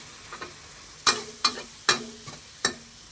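Shrimp stir-fried in a pan for a Thai basil stir-fry, with four sharp bursts of tossing and scraping over a soft sizzle, close and fairly loud, no talk.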